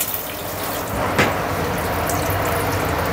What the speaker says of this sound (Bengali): তেজপাতাটা একটু ধুয়ে দিলে ভালো হয়